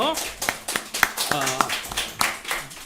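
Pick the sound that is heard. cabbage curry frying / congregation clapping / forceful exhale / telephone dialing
congregation clapping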